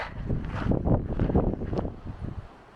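Wind blows across rocky ground in the Mojave desert, gusting in an uneven, rumbling roar that buffets close and loud for a few seconds before easing.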